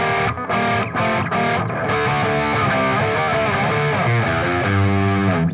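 Loud, distorted electric guitar plays a riff from tablature up to speed, a continuous driving stream of chugging notes with bright overdrive and no gaps.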